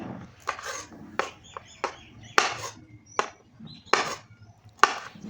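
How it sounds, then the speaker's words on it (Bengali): Green beans are halved with a knife in a home kitchen, giving about eight crisp, evenly spaced chops, close and clear, with quiet pauses between strokes and no talking. "এই বিনসগুলো উপরের মাথাটা এবং পেছন দিকটা সামান্য কেটে মাঝখান থেকে দুভাগ করে নিচ্ছি"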